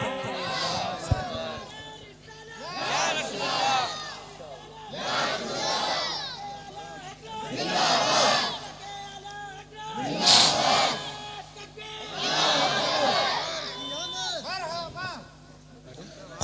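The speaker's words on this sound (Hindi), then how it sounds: "नारे तकबीर।" A crowd at a religious speech gathering roars back the takbir slogan in unison, a string of loud, echoing group shouts rising and falling in repeated bursts over a steady hum.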